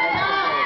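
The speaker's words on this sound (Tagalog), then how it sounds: "Kahit kaunti ang manood, ang lakas din ng sigawan." Brief, loud burst of crowd shouting and cheering at a basketball game in Santa Clara, voices overlapping in one sustained roar.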